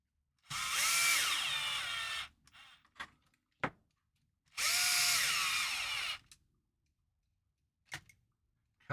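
A power drill drives screws to mount a gearbox on a crawler, whining in two loud, close bursts of about two seconds each, with a few small clicks and knocks in the pauses.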